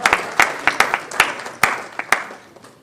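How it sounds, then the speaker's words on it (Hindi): An audience at a film poster and trailer launch claps in scattered, distinct bursts, each hand clap sharp and close, growing sparser toward the end. "अगर अपने हाथ निकालिए और जोरदार ताली दीजिए"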